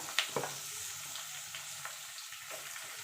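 Chicken pieces sizzling in a pan of chicken stew over low gas, a steady soft frying hiss with a few brief clatters near the start as they go in, no voices.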